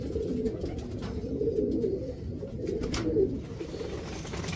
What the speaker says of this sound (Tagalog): papakainin na po natin yung mga ibon natin